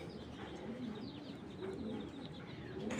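Low, soft pigeon cooing repeats in rolling phrases over a steady background hum, close by and moderately loud.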